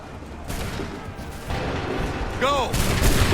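Musket gunfire volleys in Assassin's Creed 3, loud cracking bursts that swell into a rolling fusillade with a sharp onset partway through, with shouted voices in the mix.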